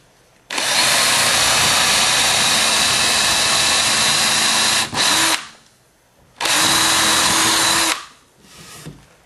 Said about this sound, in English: So we got our pattern drilled.